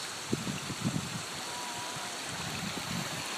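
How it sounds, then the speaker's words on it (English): Water trickling and splashing over the rock cascades of a restored swale, a steady low rushing flow with faint wind, no voices present. "Cascading waterfalls."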